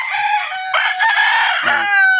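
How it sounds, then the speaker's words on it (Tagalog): A rooster crows loudly and close by in one drawn-out call, with a brief lower cluck near the end, no talk over it. "Ang pogi ng mga manok dito."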